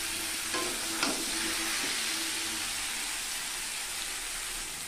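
Pumpkin and potato chunks with ginger paste fry in oil, with a steady sizzle and a few soft scraping stirs of a spoon in the pan.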